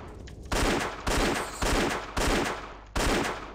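Repeated shooting in Indiana Jones and the Infernal Machine: five loud, close bursts of game gunfire at fairly even intervals, each sharp onset fading slightly before the next blast hits.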